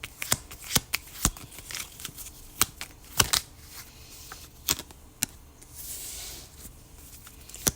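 Tarot cards being shuffled by hand, a close run of crisp irregular riffles and slaps spread across several seconds, with a brief softer rustle near the end and no talk.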